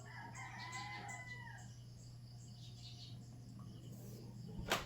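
A rooster crows in the distance, a drawn-out call over steady low background hum, with a sharp sound near the end.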